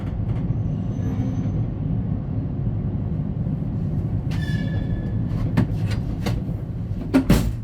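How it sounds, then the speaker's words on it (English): A loco-hauled passenger train pulling out of a station in Georgia, a low steady rumble of rolling carriages with a few sharp metallic clanks and squeals toward the end. "The train left the station on time, at 9 o'clock."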